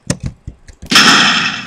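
A few quick sharp pops, then a loud sustained blast with roaring hiss from a cannon firing in Minecraft, heard up close.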